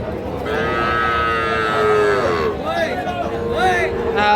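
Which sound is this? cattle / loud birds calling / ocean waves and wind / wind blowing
cattle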